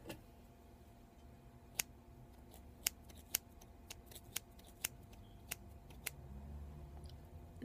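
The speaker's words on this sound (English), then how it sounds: "I'm gonna cut a little bit off the top of the hair for you" Salon scissors snip through hair in a slow, quiet series of about ten crisp, close-up cuts, spaced roughly half a second to a second apart over a soft, hushed background.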